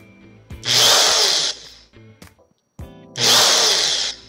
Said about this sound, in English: I'm going to grab onto one end of the wire with these pliers, and I'm just going to hit the drill